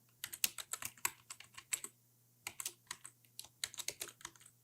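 Someone types a password on a computer keyboard in two quick bursts of crisp, close key clicks, separated by a short pause, over a faint low electrical hum.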